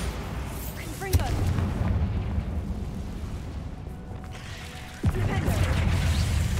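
Bombarda and Confringo spells exploding in the video game Hogwarts Legacy: two sharp, loud blasts ring out over a continuous booming, rumbling battle din, with voices faintly present.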